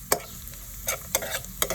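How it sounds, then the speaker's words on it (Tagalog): Garlic and onion sautéing in a pan, with a few sharp stirring scrapes and soft sizzles spaced through a faint, quiet background. "magigisa na tayo ng bawang, sibuyas"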